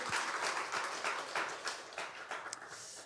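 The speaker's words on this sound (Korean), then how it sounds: "우리 하나님께 영광의 박수 올려드리겠습니다" A church congregation at a Sunday worship service gives a round of applause, many hands clapping in a dense, fairly loud burst that fades slightly toward the end.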